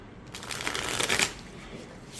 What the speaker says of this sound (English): I zoomed out and let's see how this deck shuffles